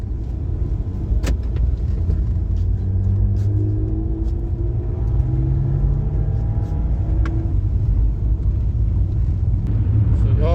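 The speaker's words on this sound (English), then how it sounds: "As you can hear, the Diff is locked. Let's see what the BMW has." A BMW E46 328 drift car with a welded differential idles and revs close by. Its deep, loud engine rumble holds steady while rising and falling tones sweep through it.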